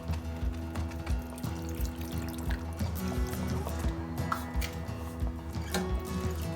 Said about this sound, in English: So I am adding some more water so that my vegetables will come into a gravy consistency